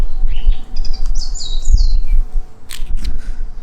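Birds chirp and trill in a park in bright, quick phrases over a steady outdoor hum, one call sweeping clearly in the middle, others scattered and farther off.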